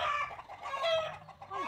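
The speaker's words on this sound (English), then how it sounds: "I'm sorry Fabio the rooster decided to throw a fit right now." Backyard rooster in a home garden, crowing and clucking loudly in an agitated fit among the chickens. Harsh, strained calls come close and fill the moment, rising and breaking with short pauses and no talking.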